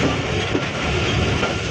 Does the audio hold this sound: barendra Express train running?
yes